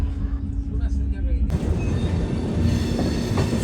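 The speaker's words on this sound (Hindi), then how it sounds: "हमारी ट्रेन स्किप कर रही है तुगलकाबाद रेलवे स्टेशन पे" Express train on the Mumbai–Delhi route running through Tughlakabad railway station: a steady, loud rumble of rolling wagons with rising rail and wheel noise, heard continuously from on board with some speech in the background.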